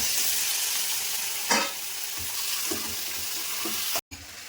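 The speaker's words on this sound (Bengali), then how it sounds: "মশলা থেকে তেল ছেড়ে দিয়েছে এবার ম্যারিনেট করা চিকেনটা দিয়ে দিচ্ছি" Marinated chicken frying in oily spice masala for a coal-smoked chicken dish, giving a loud continuous sizzle with a few scraping stirs, then a brief cut near the end.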